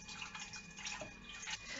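Water trickles quietly into a bowl for steamed egg pudding, a soft, uneven pouring and dripping sound that stays faint and close throughout.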